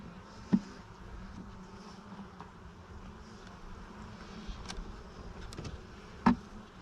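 Honey bees buzzing steadily and faintly around an opened hive during an inspection, a low continuous hum with a couple of brief close knocks.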